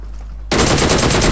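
Sniper rifle gunfire in the PUBG video game breaks a near-silence with a sudden loud burst of rapid, evenly spaced shots that continue to the end.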